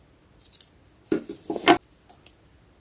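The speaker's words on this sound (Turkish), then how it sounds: "Beyaz ipimi kesiyorum." Scissors snip white yarn for a Hello Kitty keychain craft, a few crisp metallic clicks and short cutting crunches close by, in brief bursts with quiet gaps and no talk.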